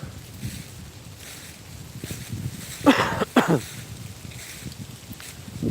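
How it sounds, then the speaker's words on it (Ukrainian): Steady outdoor wind in the Carpathian mountains rumbling and buffeting the microphone, with a couple of stronger gusts midway; no one speaks. "Сьогодні погода вітряна."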